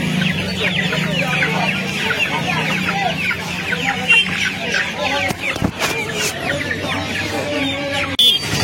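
Many large hens cluck and squawk continuously at a busy hen market, close and loud, with people talking underneath and a few sharp bangs.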